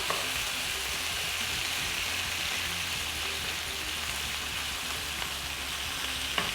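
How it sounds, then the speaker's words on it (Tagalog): Sirloin beef browns in a hot pan with a steady, close, even sizzle and a few soft stirring scrapes, continuous throughout with no talking. "So make the beef slightly brown."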